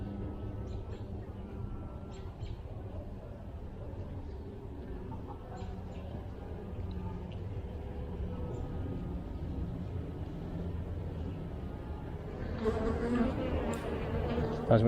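Honeybees buzz steadily around an opened hive during an early-season inspection in February, a continuous close drone that swells louder near the end.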